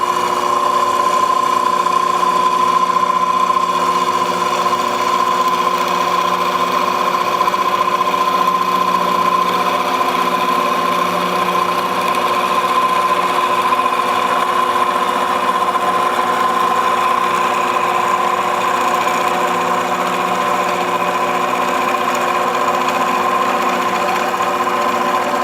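Lathe turning a wooden dowel for a mast, with a steady loud motor whine and a constant hum that holds level throughout and no talk.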